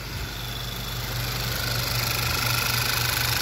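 A VW 2.0 TSI petrol engine in a mk6 car, suspected of an intake manifold fault, idles with a steady low hum and faint rhythmic pulsing, close and continuous with no talk.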